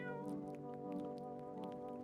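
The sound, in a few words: cat meowing after being fed, in a horror video game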